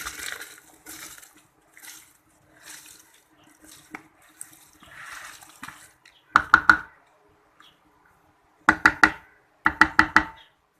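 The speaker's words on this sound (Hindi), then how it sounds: "अब मैं इसमें डालूंगी चावल।" Rice being added to a pot of boiling water while cooking chana pulao, with a soft bubbling and sloshing at first, then several loud clustered knocks and clatters from the pot and utensils.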